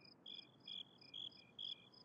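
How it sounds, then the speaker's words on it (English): Crickets chirp at night in short, evenly spaced trills, four or five quick bursts, clear but quiet against a soft background. "Oh, I hear crickets."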